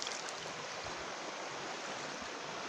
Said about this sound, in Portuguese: a água aqui é uma água corrente